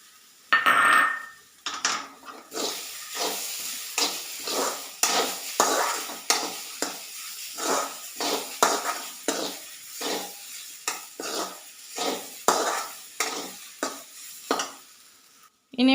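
A spoon scrapes and stirs crushed coconut into a spinach stir-fry in a pan, with repeated rhythmic strokes and a soft sizzle, close and clear, in a home kitchen without talk.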